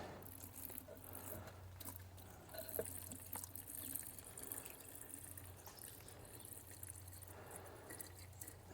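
Distilled water is poured from a one-gallon jug into the cells of a six-volt golf cart battery, giving a steady, close trickling and splashing under a constant low hum, with no talking.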